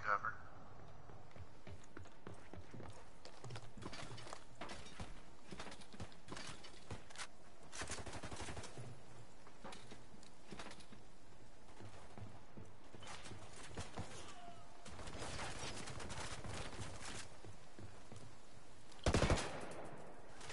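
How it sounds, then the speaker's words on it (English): Gunfire in the game Ghost Recon: Wildlands, with bursts of automatic fire and scattered shots at a distance under a steady low background, plus a brief louder burst near the end. "Wait, who's still shooting me?"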